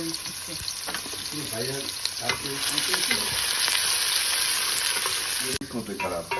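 Onions sizzle and hiss steadily in a large batch of hot oil, about three kilograms, for a homestyle Bangladeshi curry. The frying is loud and continuous, with stirring and a low voice faintly in the background, before a brief dip near the end.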